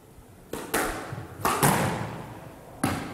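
A squash ball in a women's semi-final at the Karachi Open thuds against the wall and floor in a nick shot, giving several sharp, close impacts spaced irregularly over about three seconds with a reverberant court echo.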